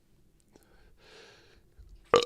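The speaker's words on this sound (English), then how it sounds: "I got a burp in here" A single short, loud burp erupts near the end of a quiet stretch, preceded by soft breathing and faint background rustle.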